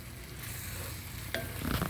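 Herbs are stirred into ground beef, about 2 pounds, in a pan on an outdoor grill, a soft scraping and sizzling mix with a brief sharp clink partway through, close and quiet with no talking.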